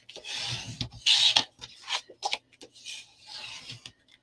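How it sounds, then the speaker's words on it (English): Paper flap being folded over and creased down for a handmade vagabond briefcase minibook, heard as close, soft rubbing and papery rasping strokes in several short bursts, with no talk. "I'm just going to line it up, and I'm going to fold that flap over the top"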